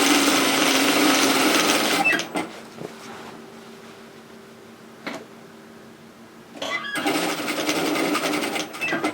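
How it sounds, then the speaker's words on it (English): A sewing machine stitches a tote bag seam in two loud, steady running bursts at the start and end, separated by a quieter pause with faint handling clicks. "continue sewing until you get to this lower edge"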